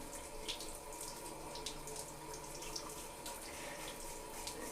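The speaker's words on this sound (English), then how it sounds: "I can hydrate it a little bit by putting water in my hands and doing it like this." A bathroom tap runs steadily into cupped hands at a sink while wetting shaving cream for a straight razor shave, a soft continuous splashing trickle with small drips, close and quiet with no talk.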